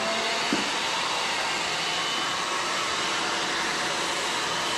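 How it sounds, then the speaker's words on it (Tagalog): A blower, like a hair dryer, runs with a steady, even hiss that stays loud and close from start to finish, with no pauses. "Yan na po yung blower."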